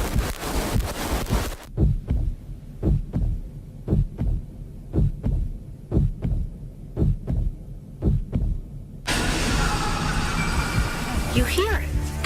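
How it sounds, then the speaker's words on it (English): Rhythmic heartbeat thumps, about a dozen evenly spaced low pulses, loud and close, heard in a supposedly possessed house, with a burst of noisy speech and movement before and after. "You hear a heartbeat."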